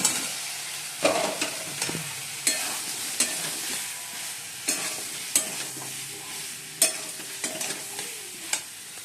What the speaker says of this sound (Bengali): মশলা কষে নিচ্ছি আদা রসুন পেঁয়াজ জিরে গুঁড়ো এই হলো মশলা আমি আলুগুলো দিয়ে দিচ্ছি